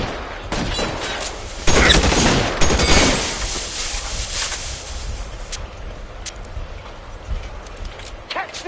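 Gunfire in the L.A. Noire video game: several sharp shots cluster near the start and in the middle, with a dense burst around the second and third seconds, then fading reports over a steady background, with voices partly under it.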